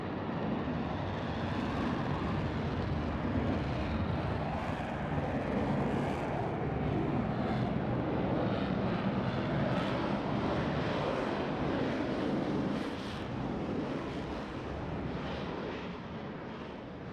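Aircraft flying a four-ship diamond aileron roll in the video game Roblox, a continuous broad engine roar that holds steady and loud for the whole stretch, easing slightly toward the end.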